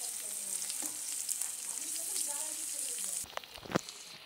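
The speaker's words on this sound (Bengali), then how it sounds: "তেলের ভিতর পেঁয়াজ আর মরিচ ছেড়ে দিয়েছি।" Onion and chili fry in hot oil in a wok, a steady close sizzle with occasional stirring scrapes, cutting off near the end to a few clinks.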